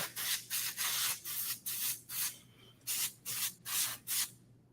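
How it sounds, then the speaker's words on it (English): Cold spray hisses onto isomalt holding a cookie in about nine short bursts of roughly equal length, close and crisp, each separated by a brief pause, with no talking. "I have some cold spray here that I'm going to use on this so that it freezes up very quickly"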